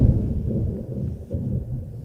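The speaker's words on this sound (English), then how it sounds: "We're in the middle of a thunderstorm here." Thunder during a thunderstorm rolls as a low, deep rumble that swells and fades in uneven waves, heard alone for about two seconds.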